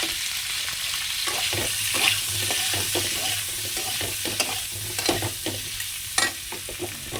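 Potatoes fry in oil in a kadai, a continuous sizzle with repeated scraping stirs and light utensil knocks, close and fairly quiet.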